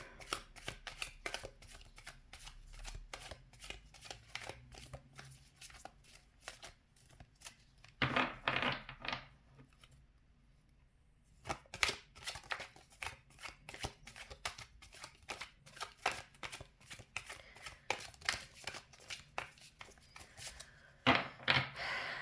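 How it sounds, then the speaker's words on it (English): Tarot cards are shuffled in rapid riffling bursts, close and crisp, with a pause of near silence in the middle before the shuffling resumes. "I love shuffling on camera."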